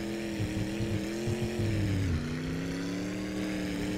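A V8-powered tractor in the game My Summer Car racing at high speed, a continuous loud engine drone with a steady pitch that dips slightly partway through, heard alone with no talking.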